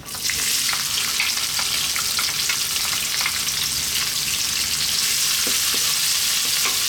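Onion fries in oil over a fairly lively heat, producing a loud, continuous crackling sizzle close by, with a few small stirring knocks and no talking.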